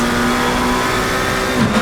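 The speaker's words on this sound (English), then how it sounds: "So this is a huge pack of cars." GT3 race cars at Imola in a racing video game, a dense pack engine drone sustained and loud throughout, with steady high-pitched engine tones and a slight surge near the end.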